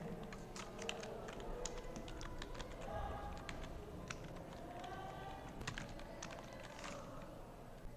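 Steady clatter of a computer keyboard as CSS code is typed, quick irregular keystrokes running continuously at close range, with a faint room hum underneath and no speech.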